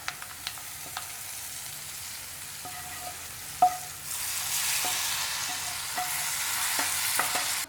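A fried onion and chili mixture going into a fish curry made without coconut: a few sharp clinks and taps, then a louder, steady sizzle swells up and continues, close by, with no speech.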